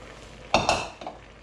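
Gnocchi being stirred in a pot of boiling salted water, giving a couple of close utensil clinks and scrapes against the pot followed by a softer knock, with a low simmering hiss underneath.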